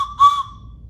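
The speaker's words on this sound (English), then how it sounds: "Now, if you take a look in your bags, you'll find a train whistle." A toy train whistle gives a shrill, steady tone. It swells into one louder burst and then fades back to a thin sustained note, close and clear with no voices.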